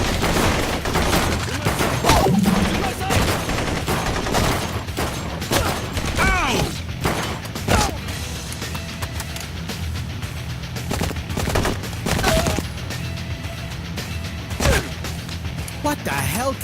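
Rapid gunfire while shooting at a shark in the video game Blue Estate, bursts of shots repeating steadily and loudly over a busy game soundtrack, with a voice talking over the action.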